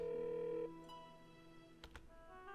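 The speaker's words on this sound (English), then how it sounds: "I picked up the phone. First, I decided I would call my parents." A telephone dialed in a visual novel game: a short steady tone cuts off, followed by quiet electronic tones and a couple of brief clicks, faint and close.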